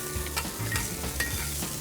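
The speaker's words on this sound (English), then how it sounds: "You can see how they're sizzling." Meat sizzles steadily on a Lone Star Grillz flat-top skillet, with light scraping and stirring noises breaking through the constant crackle.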